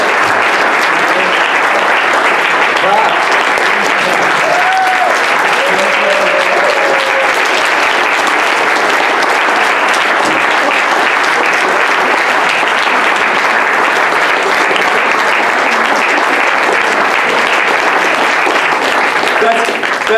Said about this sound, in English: It's a way to get the applause to keep going.